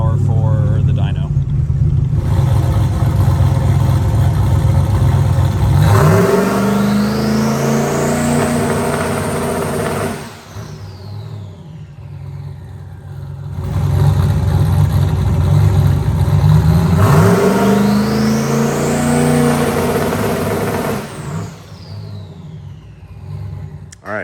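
A turbocharged Datsun 280Z street car revs hard twice during a boost test on a dyno. Each pull is a loud engine roar that climbs with a rising whine, then drops back to a rough idle.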